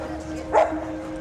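A single short dog bark, moderately close, over steady street background hum with a faint voice nearby.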